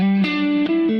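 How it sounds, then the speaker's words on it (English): Electric guitar played through the Halo multi-delay effect on a Fractal unit: a few sustained notes change pitch in sequence, and each is carried by a smooth, shimmering echo tail, with no talking. "It's the Halo multi-delay in the Fractal."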